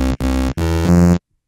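A 16-bit style synth voice set to a digi oscillator plays three short, buzzy, harmonically rich tones in quick succession, the last held slightly longer before cutting to silence.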